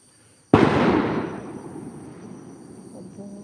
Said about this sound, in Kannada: ಒಬ್ಬ ಬಾರಿ ಜೋರಿಗೆ ಪಟಾಕಿ.